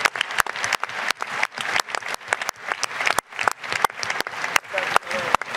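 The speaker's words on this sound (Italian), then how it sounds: "Facciamogli un applauso" Audience applause at a political party congress: steady crowd clapping with sharp louder individual claps standing out, sustained throughout with a faint voice or two underneath.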